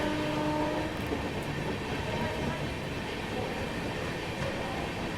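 A premium Indian passenger train runs along the main line, producing a steady, loud rolling rumble with wheel clatter and a faint tonal whine early on.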